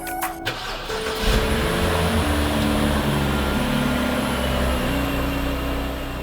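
A BMW E90 328i fitted with new spark plugs cranks briefly, fires up, then settles into a steady, smooth idle with a constant close engine hum and no other sounds.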